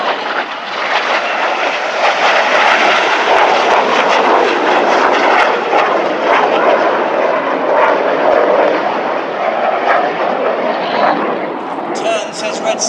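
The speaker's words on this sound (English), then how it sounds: "They keep full power on the aircraft." RAF Red Arrows jets roar past at full power in a loud, continuous wash of engine noise that lasts the whole stretch. Spectators talk underneath.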